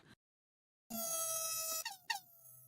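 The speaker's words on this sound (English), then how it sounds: "I don't know about that little weak air horn" A thin, weak air horn blasts for about a second after a short silence, then breaks off in two quick stuttering bursts. It is reedy and fairly quiet.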